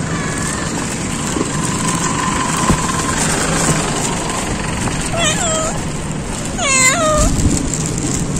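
A street cat meows twice near a noodle shop on Si Phraya Road, Bangkok: two clear, close cries a second apart, heard over steady traffic and engine hum.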